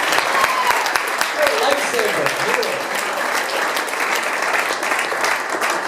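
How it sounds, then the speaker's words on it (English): A loud, dense round of audience applause continues steadily throughout, with no pause or letup. "I think it's even worth a round of applause."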